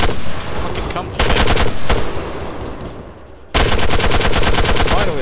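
Automatic gunfire in the military shooter Arma 3, loud rapid bursts of close shots, a short burst early, a brief lull, then a long sustained volley to the end.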